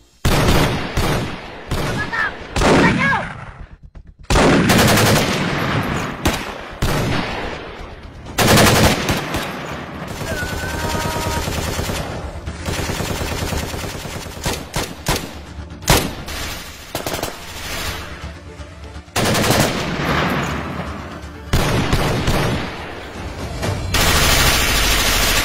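Rapid bursts of gunfire from a gun in a Filipino drama scene, loud and close, with machine-gun-like volleys broken by short pauses across the scene.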